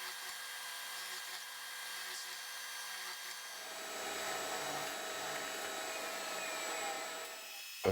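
A power drill whirs steadily, its motor pitch shifting as it bores holes in wood, fairly close and continuous with no talking.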